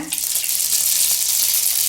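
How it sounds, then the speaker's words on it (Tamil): Mustard seeds sputter and sizzle in two teaspoons of hot oil in a pan for a Tamil red amaranth stir-fry, a steady close crackle with faint pops and no talk. "எண்ணெய் காய்ஞ்சது கடுகு போட்டுக்கோங்க."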